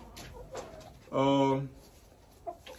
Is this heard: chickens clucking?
yes